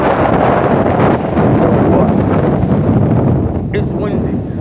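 Strong wind buffets the microphone on an abandoned beach strewn with sargassum in Yabucoa, Puerto Rico, a loud, continuous low roar and rumble filling the whole clip.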